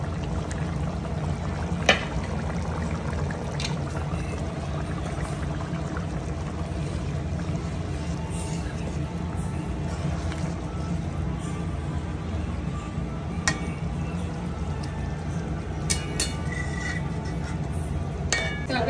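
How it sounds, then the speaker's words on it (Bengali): Cooked duck egg and loitta fish curry being poured from a pan into a serving dish, a soft continuous wet pour with faint scraping and clinks throughout, close and fairly quiet. "তরকারিটা এবারে ঢেলে নেব।"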